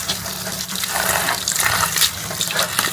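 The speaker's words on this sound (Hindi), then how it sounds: "तो इसे 3 बार पानी डाल के इसको हम अच्छी तरह से धो लेंगे।" Tap water gushing into a strainer of saag greens being washed in a kitchen sink, an uneven splashing stream with bursts as the leaves are rinsed, close and fairly loud.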